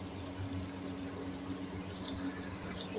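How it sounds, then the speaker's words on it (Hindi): Water is poured into a pot of arbi (taro root) curry in a home kitchen: a steady, fairly close splashing stream that runs unbroken for about three seconds, with no voices. "अब इसमें हम डालते हैं पानी हस्बे ज़रूरत।"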